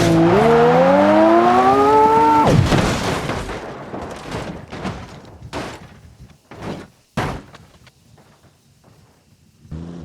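A BMW M2 Competition in the BeamNG.drive driving game during an instant-acceleration test, its engine whining loudly and rising in pitch for a couple of seconds before cutting off into a series of sharp bangs and thuds that fade to near silence.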